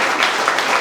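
An audience applauds scholars at a maritime gathering, a short burst of dense, steady clapping at close range with no speech over it.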